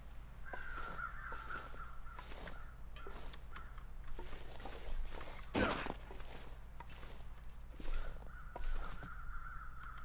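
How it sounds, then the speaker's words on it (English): Crows cawing in the video game The Long Dark, harsh repeated caws coming from some distance over a low windy ambience, with faint crunching footsteps and occasional louder bursts. "I think those crows are surrounding a carcass."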